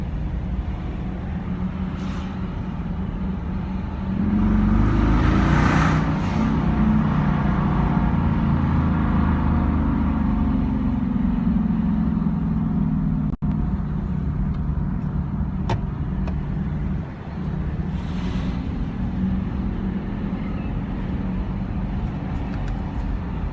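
A Dodge Durango fitted with a $150 exhaust cruises in second gear at about 20 mph in calm mode, giving a steady, fairly quiet engine drone that briefly swells louder as it pulls, then settles back.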